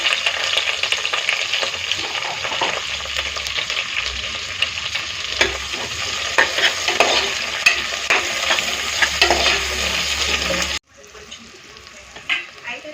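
A cup of onions frying in oil with whole spices and five slit green chillies for prawn biryani, a loud continuous sizzle with stirring scrapes, cutting abruptly to a quieter hiss near the end, no talk.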